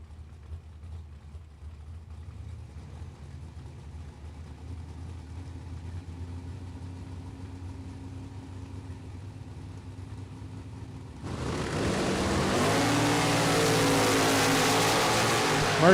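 Chevrolet Camaro drag cars, including a 1969 blue Camaro, idling with a low, lumpy rumble for a long stretch, then abruptly bursting into a loud, sustained full-throttle roar down the strip.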